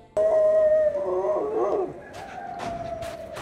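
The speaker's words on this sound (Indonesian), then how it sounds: "Lolongan serigala pun menemani Eric malam ini." A wolf gives a long, sustained howl on a snowy mountain in a survival film, with a second, wavering voice joining partway through. A few soft knocks are heard near the end.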